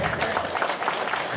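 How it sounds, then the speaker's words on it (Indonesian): A short, steady burst of crowd applause from an audience at a talk, dense clapping throughout with faint voices beneath. "Tepuk tangan dulu."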